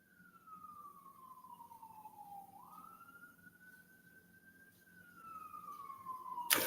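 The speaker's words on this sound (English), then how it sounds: "we're going to let the siren go by" An emergency vehicle siren passes by in the distance, a single slow wailing tone that falls, rises and falls again, faint over low room hum, ending with a sudden sharp knock.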